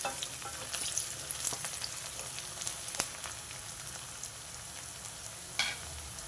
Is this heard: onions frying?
yes